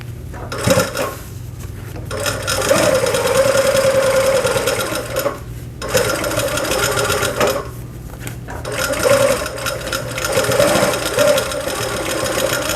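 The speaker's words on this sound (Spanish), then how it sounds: "vamos a coser por acá" Sewing machine stitching a handmade wallet, running in steady bursts of close, loud mechanical whirring with brief pauses between seams.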